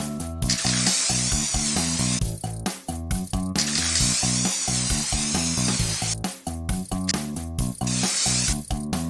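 Repeated sprays of hair spray in a pony hairstyling game: hissing, sizzling bursts over loud, rhythmic pop music with a steady beat, the spray blending into the bright mix.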